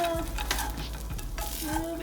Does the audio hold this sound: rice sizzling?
yes